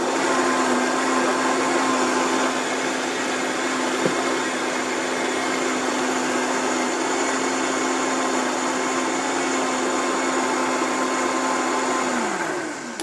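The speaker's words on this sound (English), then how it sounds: "we could keep it going in the blender for just a few minutes and it would warm it up really nice" A blender whirs steadily and loudly as it purees a raw food drink with fresh organic ginger, running continuously without talk before the motor begins to wind down at the very end.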